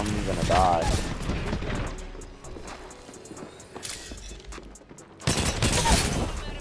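Rapid gunfire in the Apex Legends battle royale shooter, Season 17: dense bursts of shots crackle through the opening seconds, thin out in the middle, then return loud near the end over a busy game backdrop.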